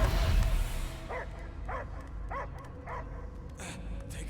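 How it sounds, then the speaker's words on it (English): A dog barks repeatedly in the video game Marvel's Guardians of the Galaxy, about six evenly spaced barks rising over a dense game rumble that is loud at first and then settles. "I hear only barking."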